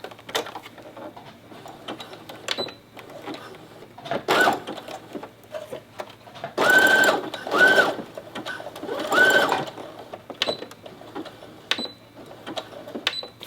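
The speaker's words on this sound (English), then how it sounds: "we want to sew with an overlapped about a 1/2 inch and sew it to secure it" A sewing machine stitches overlapped elastic for a shirred top in close, fast bursts of mechanical whirring and clatter, separated by short pauses and quieter handling noises.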